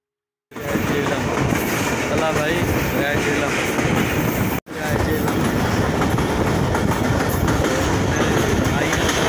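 A passenger train on the line from Murree to Multan in Pakistan rumbles loudly and continuously, with rhythmic clatter and rattle from inside the carriage. A brief cut interrupts the sound midway.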